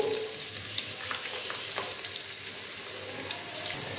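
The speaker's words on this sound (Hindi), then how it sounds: "अभी प्याज डालेंगे ऑयल के अंदर" Finely chopped onions frying in hot oil for mutton Sindhi biryani, a steady broadband sizzle running throughout with faint clinks and scraping underneath, close and even in loudness.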